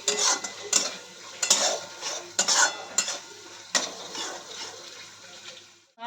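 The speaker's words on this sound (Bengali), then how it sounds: "মালাইকারির মশলাটা এবার কষানো হচ্ছে" A spoon stirs and sautés malai curry spice paste in a metal pan, giving close, repeated scraping clinks in uneven bursts over a soft background sizzle, with no talking.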